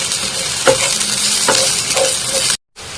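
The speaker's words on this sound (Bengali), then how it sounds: "পেঁয়াজ দিয়ে পেঁয়াজ একটু ভাজিয়ে নেব গিয়ে" Onions fry in hot oil in a pan with a loud, continuous sizzle, broken by a few brief stirring scrapes before the sound cuts out.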